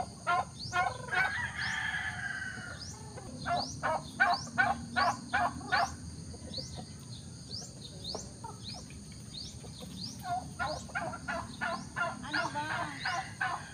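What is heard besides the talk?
chickens clucking at army campsite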